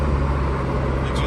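A Pontiac Sunbird GT Turbo on its first drive after shop repairs, with a steady low engine drone and road rumble heard from inside the cabin, loud and unbroken.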